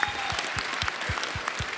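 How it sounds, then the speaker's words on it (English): Audience at a Wizard World Austin convention panel bursts into steady applause, a dense crowd clapping loudly and continuously throughout with no talking over it. "Let's applaud the fact that she's finally done."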